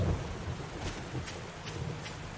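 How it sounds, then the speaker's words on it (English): Rainstorm with rolling thunder in the survival game 7 Days to Die: a steady wash of rain with a few soft, distant thunder rumbles and gusts spread across the moment, no voices. "Oof, we finally got that storm, huh? I like when it rains"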